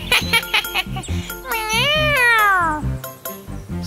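A cartoon cat meows in a Hindi animated story, giving one long, drawn-out, wavering meow between short jingly musical beats.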